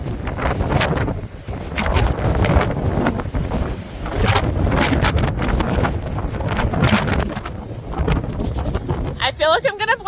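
Strong mountain wind batters the microphone with loud, continuous roaring gusts and low rumbling buffeting outdoors by a driveway in the mountains, and a voice exclaims briefly near the end.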